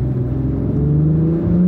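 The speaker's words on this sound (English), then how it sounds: "So here we go out on the road, and we'll give it a little gas." An Acura TLX accelerating on a road, a steady mid-pitched engine drone with a tone that rises slowly as it pulls away, close and loud, no talk.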